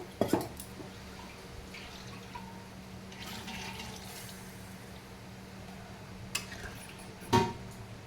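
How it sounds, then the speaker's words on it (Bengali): A bowl that held spices is rinsed and filled with a little water, giving quiet trickling and sloshing with a few sharp knocks near the start and end, faint and close by. "আমি এই যে গামলাটা ধুয়েও একটু জল দেবো"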